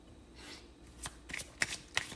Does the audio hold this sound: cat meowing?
no